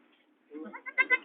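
A goat that has just given birth bleats in a short series of close, wavering cries, starting faintly and growing louder over about a second.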